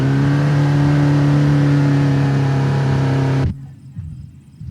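A car engine in the BeamNG.Drive game, the Cherrier Tograc, drones loudly and steadily while submerged, then cuts off abruptly as it hydro-locks, leaving quiet water sounds and a brief spoken question.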